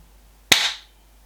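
A reusable airsoft timed grenade, a Dynatex or Pulse Armaments model, goes off with one sharp, loud, close bang and a short fading tail, then quiet.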